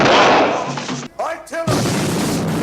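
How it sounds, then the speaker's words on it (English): Loud booming artillery fire from the 1974 Death Wish trailer, a dense rumbling barrage that drops out briefly while a voice speaks, then resumes as a sustained roar. "Artillery!"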